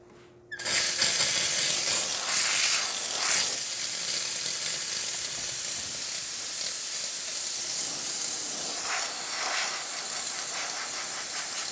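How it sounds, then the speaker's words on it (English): A Rancilio Silvia espresso machine's steam wand opens with a sharp start and then hisses loudly and steadily for about eleven seconds, a continuous close-up rush of steam with no talking. "Go ahead and test the steamer."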